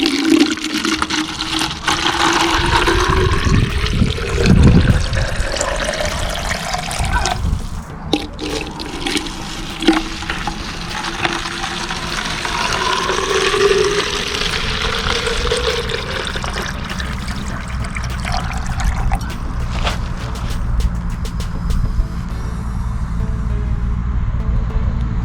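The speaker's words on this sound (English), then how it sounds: "We pour water into the bottles." Water is poured steadily into plastic bottles rigged for a homemade drip irrigation system, a continuous splashing and gurgling pour lasting the whole stretch with no voices.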